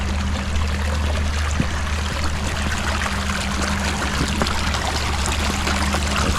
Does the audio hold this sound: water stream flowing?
yes